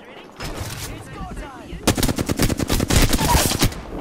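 Rapid automatic gunfire in a video game, starting as scattered shots and building into dense, loud, repeated bursts of fire.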